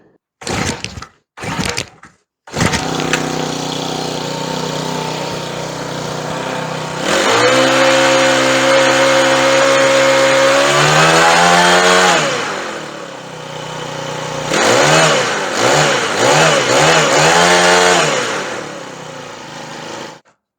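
A small Honda tiller engine, long left sitting in a storage unit, sputters through a few failed pulls, then catches and runs steadily up close, rising into several revs before idling and surging again in repeated bursts.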